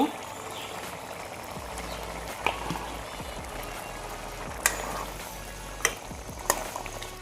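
Eggs frying in a pan with potatoes and ginger paste, a steady close sizzle throughout with a few sharp clinks of a utensil against the pan.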